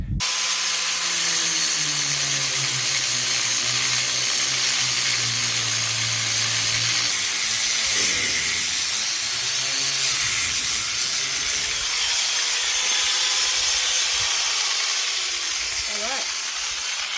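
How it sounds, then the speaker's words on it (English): Angle grinder fitted with a wood grinding wheel cutting through scrap metal at a scrapyard, a loud, steady high-pitched whine and hiss that continues throughout, with the motor's pitch dipping and shifting as the blade bites. "I'm actually going to get my grinder out and cut through it"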